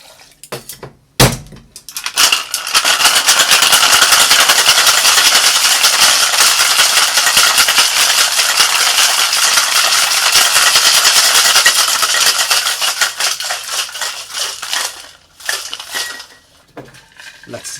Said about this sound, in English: let's get some ice and shake it.